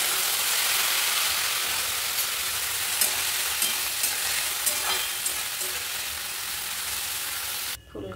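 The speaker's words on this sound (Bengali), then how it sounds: "ফুলকপি আলু ভাজা ডান।" Cauliflower and potato pieces frying in a pan make a constant, close sizzle, with occasional soft stirring clicks that fade toward the end, and no speech.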